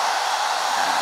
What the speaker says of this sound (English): hold the dryer about 3 inches or so away from your project.